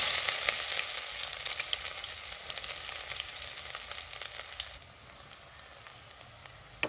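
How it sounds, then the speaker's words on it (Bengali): Onions sizzle in hot oil with whole cumin for mutter paneer, a steady close crackling fry with occasional stirring, easing slightly toward the end. "জিরেটা হালকা ভাজা হয়ে গেলে এবার দিয়ে দেবো পেঁয়াজ।"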